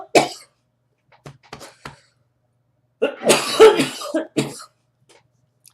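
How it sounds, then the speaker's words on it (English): A person recovering from whooping cough coughs and clears their throat in short harsh bursts, a few scattered at first and then a stronger cluster, close and alone against silence. "Sorry, you guys, I'm still getting over this whooping cough."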